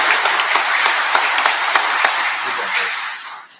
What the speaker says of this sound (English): If the audience would please join me in giving our board one more round of applause.